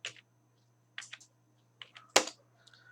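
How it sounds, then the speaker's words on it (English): Keys tapped on a computer keyboard while typing a Java command, a few sparse clicks in short bursts with pauses between, close and crisp in a quiet room. "I open my command prompt and I'll try to type a Java command."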